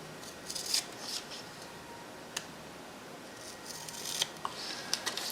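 Scissors cutting a strip to fit a heat sealer, several faint, close snips and rubbing clicks spread irregularly over a quiet hiss.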